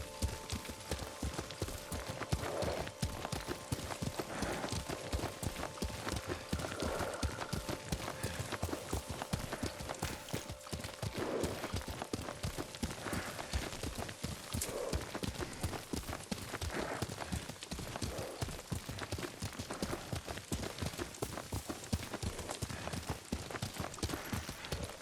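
A horse's hooves clip-clop in a steady galloping rhythm while the rider travels in the samurai game Ghost of Tsushima, dense and continuous under faint background music.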